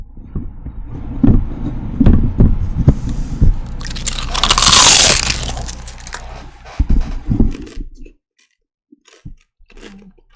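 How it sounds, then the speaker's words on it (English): One big, loud bite crunches right at the microphone, with smaller chewing crunches and scrapes before and after it and near silence at the end. "you guys ready for a big crunch?"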